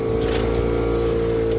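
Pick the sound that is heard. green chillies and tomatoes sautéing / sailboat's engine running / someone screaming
sailboat's engine running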